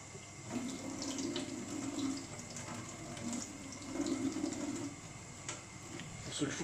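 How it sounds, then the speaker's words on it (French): Water runs steadily from a kitchen tap opened about halfway, a soft continuous hiss and splash heard up close at low level while bread dough is being prepared. "Vous voyez le robinet."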